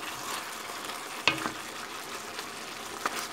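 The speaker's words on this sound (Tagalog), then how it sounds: "Kumukulo-kulo na siya." Chicken afritada bubbling in a pot gives a soft, steady simmer with faint bubbling and a few sharp pops and clinks, heard quietly on its own.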